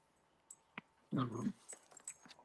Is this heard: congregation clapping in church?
no